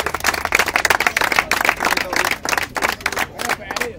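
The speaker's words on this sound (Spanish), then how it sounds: "¡Aplausos!" Crowd at a freestyle rap battle breaks into loud, choppy clapping and cheering, with voices shouting over the applause.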